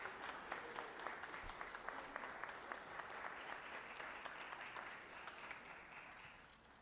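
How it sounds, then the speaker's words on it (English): Applause in a state Senate legislative chamber, a steady round of clapping from many people at a moderate, somewhat distant level that tapers off slightly near the end. "Won't you give a round of applause for Renee Montgomery?"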